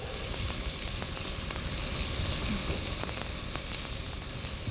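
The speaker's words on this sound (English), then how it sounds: "let's add the onions to this now, and we'll have to saute this for a while" Onions sizzle and fry in a pan with a piece of mace and shahi jeera for vegetable pulao, a steady dense hiss with faint scattered crackles running throughout, close and even, with no talking.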